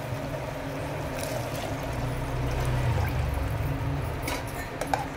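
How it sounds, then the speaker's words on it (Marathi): Water pours steadily for about five seconds into a pan of fried potato and pea masala, making a continuous splashing rush as a khichdi is cooked. "आता आपल्याला याच्यामध्ये घालायचे पाणी।"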